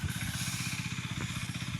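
Farm engine machine running close by, a steady rapid throbbing putter with a hissing edge, loud and continuous for the whole moment with no voices.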